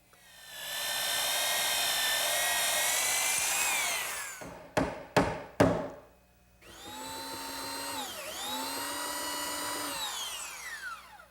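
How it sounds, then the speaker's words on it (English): A belt sander grinds down protruding dowel ends flush with wooden chair-table parts: a long loud whine, a few sharp bursts as it stops and restarts, then another sustained run with shifting pitch, no speech. "my belt sander does a good job removing any of the excess dowel"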